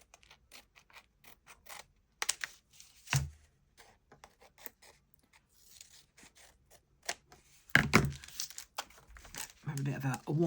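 Scissors snip and trim the paper edge of a steampunk junk journal's inner cover, sparse crisp cuts and crinkling paper rustles spaced apart, with a couple of louder handling bursts, close and quiet.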